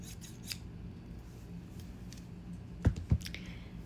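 Two quick scissor snips cutting paper close by, sharp and crisp, after a stretch of quiet room noise.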